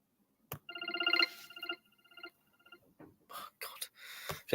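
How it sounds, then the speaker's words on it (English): A phone ringtone trills in a quick pulsing electronic ring, fairly close, during a live stream about Premier League football, then stops before brief muffled rustling and voices. "I'm trying to record a stream and people ringing me."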